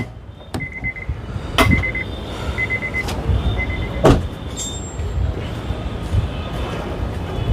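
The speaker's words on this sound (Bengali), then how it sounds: "আমি পিছনটা খুলে দেখাচ্ছি বাবু ভাই" A used Honda Civic's rear trunk is opened: a few metallic clicks and a louder latch thunk come over a steady background hum of street or engine noise, with a faint beeping tone repeating.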